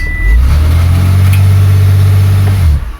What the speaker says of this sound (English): Hit the brake, put it in reverse, and floor it.